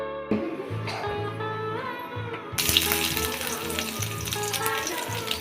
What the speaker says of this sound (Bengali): আমি এখন তেল দিয়ে নিই।